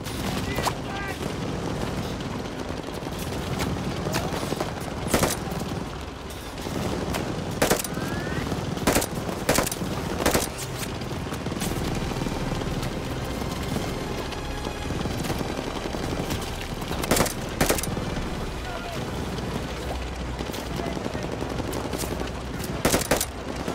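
Bursts of machine gun fire rattle through a Call of Duty Vanguard battle, repeated sharp volleys over a dense rumble of combat noise, with shouted voices mixed in.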